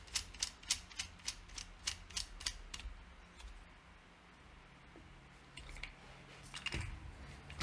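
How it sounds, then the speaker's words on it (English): A part of a WE-Tech M4 gas blowback airsoft rifle being screwed down gives a quick run of rapid ratcheting clicks up close, then quieter fiddling and small metallic taps, no talk. "Now that we've got a good position, I can start screwing this guy down."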